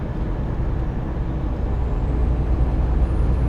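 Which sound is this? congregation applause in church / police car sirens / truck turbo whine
truck turbo whine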